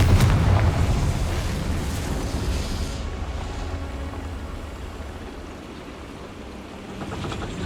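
The Confringo explosive spell goes off in the Hogwarts Legacy video game as a loud, deep blast at the start, then a long rumbling roar that slowly fades.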